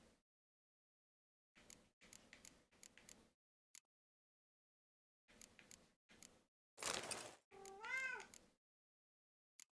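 A pet cat meows several times in a quiet room, brief close calls spaced irregularly at first, then two louder, drawn-out wailing meows with a rising and falling pitch near the end, with no talk.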